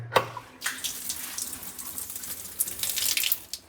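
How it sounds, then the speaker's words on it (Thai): Water drains from a bathroom washbasin after its pop-up drain plug is pressed down, a close, loud rushing and gurgling flow that follows a brief click. "เวลาเรากดตรงนี้นะสะดืออ่างล้างหน้าน้ำมันก็จะไหลลงเลยนะครับ"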